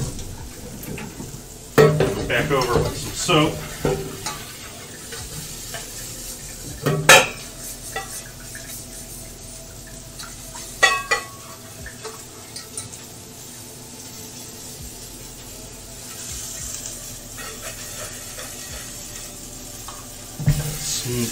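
Onions frying in a pan while being stirred, with a steady sizzle under intermittent scraping and clinks of a utensil against the pan. The clatter comes in bursts near the start and middle, and no one speaks.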